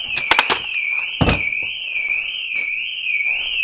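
A shrill aftermarket van alarm on a Mercedes Vito warbles continuously up and down, with a few sharp knocks and clunks near the start.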